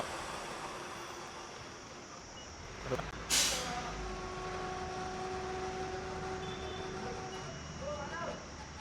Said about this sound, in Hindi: दोबारा से गाड़ी के अंदर में अब सीएनजी भरना स्टार्ट हो चुका है